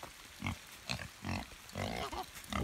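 Pigs on a farm grunt close by, five or six short low grunts spaced out in a loose rhythm, with no talking.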